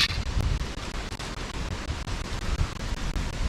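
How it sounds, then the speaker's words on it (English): Strong wind roars outside a winterized survival shelter, a dense continuous rushing with gusty buffeting against the microphone and no talk. "that wind is blowing like crazy"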